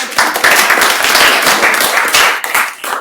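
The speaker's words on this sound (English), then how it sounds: "If we could give Julianne a round of applause." Audience applause at a labor and employment law program event, a dense steady round of clapping from many hands that stays loud throughout and tapers slightly near the end.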